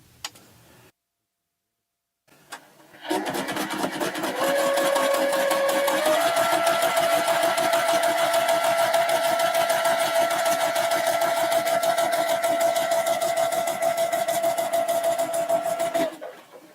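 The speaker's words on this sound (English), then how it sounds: "just turn it around and sew down the other side" Sewing machine stitching a quilt seam, starting after a short pause and then running steadily with a rapid, even ticking hum for about twelve seconds before stopping.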